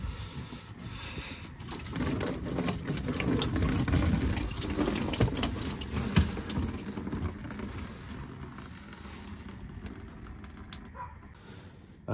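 Engine coolant gushing from a small coolant flange on the side of an engine, a close, continuous watery rush and splatter that slowly tapers off over several seconds with no voices.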